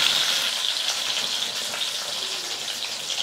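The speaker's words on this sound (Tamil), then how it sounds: "இப்போ அந்த பருப்பு கூட பூண்டு கருவேப்பிலெல்லாம் நல்லா வறுந்துடும்ல" Dal sizzles in hot oil with garlic and curry leaves, a steady bright frying hiss heard up close with no talk.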